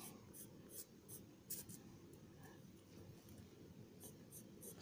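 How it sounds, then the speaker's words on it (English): A sharp pencil sketches on paper with soft, continuous scratchy strokes and quick short flicks, close and quiet, with no talking. "Take a ruler, a really good eraser, and a sharp pencil. So yeah, let's draw it."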